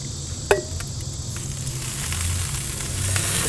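Chilean sea bass cooks on a Kamado Joe ceramic grill, giving a soft, steady sizzle after a single sharp click of metal near the start.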